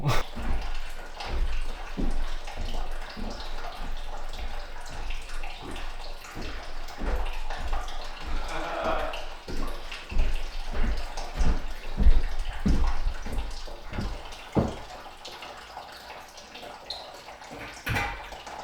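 Water runs steadily into a toilet cistern with a soft rushing hiss and irregular drips and splashes, fairly close, easing off toward the end.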